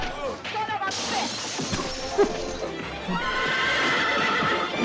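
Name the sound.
horses neighing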